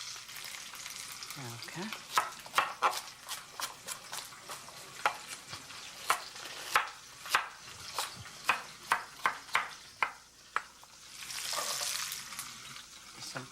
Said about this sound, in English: I'm going to wilt the vegetable in the same pot that I'm going to roast the stinco in